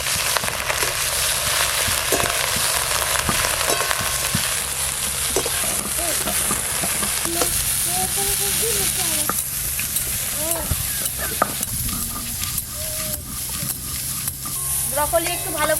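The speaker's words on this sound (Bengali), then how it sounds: "কেটে ধুয়ে রাখা ব্রকলিগুলো একটু ভালো করে ভেজে নেব।" Broccoli frying in hot mustard oil in a pan, a steady close sizzle and crackle with occasional stirring scrapes, continuing throughout.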